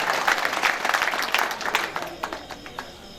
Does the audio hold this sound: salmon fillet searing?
no